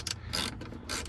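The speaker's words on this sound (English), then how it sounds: "I had to use a 1/4 inch socket." A ratchet fitted with a 1/4 inch socket backs out screws on a Chrysler 300 instrument cluster, giving two brief bursts of rapid close clicking separated by a short pause.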